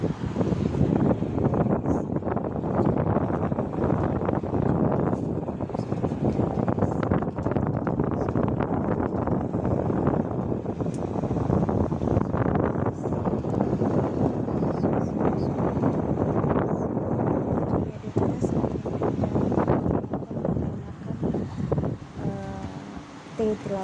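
Heavy rain driven by strong typhoon-signal-8 wind in Hong Kong, a loud, steady broadband roar of gusting wind and downpour that fills the whole stretch without letup, with wind buffeting the microphone.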